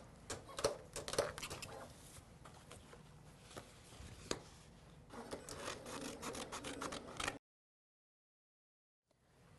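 A vinyl cutting machine cuts a snowflake ornament with a close, scratchy rubbing and rasping of the blade and carriage, broken by quick clicks, before it stops abruptly into silence.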